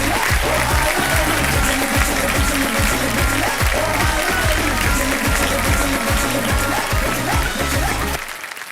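A studio audience on Kaun Banega Crorepati gives loud, sustained applause for Kiara Advani and Vicky Kaushal, dense rhythmic clapping with crowd cheering that holds steady and then fades at the very end.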